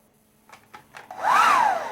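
A few soft clicks, then a hair dryer in a hotel bathroom switches on and whirs up to a loud, steady blowing hum close by.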